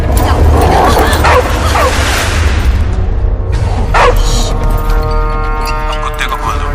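A dog barks and yips loudly up close, then whimpers and whines in rising, wavering cries, over a busy background with some low rumbling.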